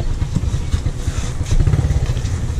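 Pink motorcycle engine running close by at a steady, rough mid-pitched putter with slight fluctuations, loud and continuous.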